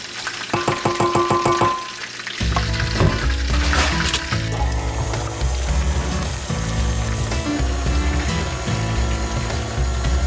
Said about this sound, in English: All right, so I've got the onions cooking here